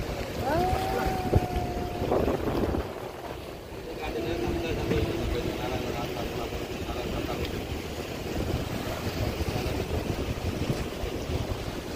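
Wind blowing at the old Doha port by the sea, a steady rushing bed with soft microphone buffeting, under faint voices and a brief tonal whine early on.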